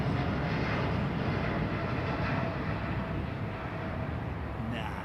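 A heavy airliner departing Heathrow on the BPK route, a loud continuous jet roar that holds steady throughout.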